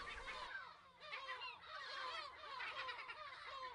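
Dense, continuous calling of gulls at a nesting colony on Steep Holm Island in breeding season, many overlapping harsh cries fairly close, with no talk.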